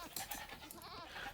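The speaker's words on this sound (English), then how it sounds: "You could hear that in the background. I found my extra goats." Goats bleat briefly in a real-time strategy game, a short, faint, wavering cry set back in the game's background sound.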